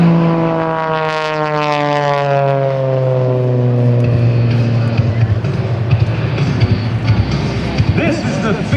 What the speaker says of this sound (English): he is going to perform for you in a German-built Extra 300 aircraft